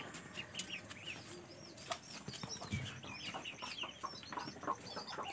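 Muscovy ducks feeding on a farm, with busy overlapping quacks, clucks and wing flaps in a continuous chorus, close and moderately loud, with no talking.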